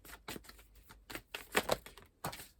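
Tarot cards are shuffled by hand in a cramped space, giving a quiet run of irregular riffling taps and soft card slaps with brief pauses between bursts.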